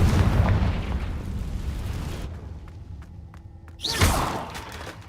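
A Confringo fire-blast spell is cast in a Harry Potter video game, giving a loud booming explosion that rumbles and fades, followed by a second sharp burst near the end.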